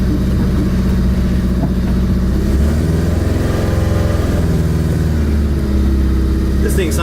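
A Honda hatchback engine runs loud and close after a clutch dump, a rough, throbbing mid-pitched drone that rises and falls slightly through the whole stretch, with a voice talking over it.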